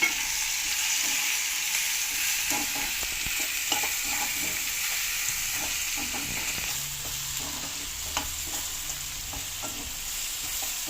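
Eggplant frying in a pan with turmeric, stirred with a utensil: a steady, close sizzle runs throughout, broken by soft scraping and tapping from the stirring.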